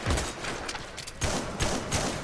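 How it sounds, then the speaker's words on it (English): Enemy gunfire in the online multiplayer game Metal Gear Online, a dense burst of rapid shots with thumping low end, briefly dipping then resuming, loud and fairly close throughout. "I hear him shooting."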